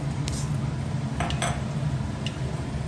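Mustard seeds go into hot oil in a cooker, with a steady, close hiss and low hum marked by a few light metallic clicks and ticks.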